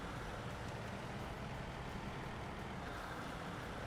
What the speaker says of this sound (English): The thing's basically got supercharged dual turbo V12 plane engine in it.